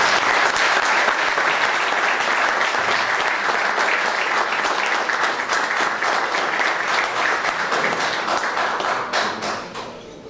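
Sustained audience applause at the Kapetan Miša Anastasijević award ceremony for the Braničevski district, dense steady clapping from a large crowd holding level for about ten seconds before tapering off slightly at the end.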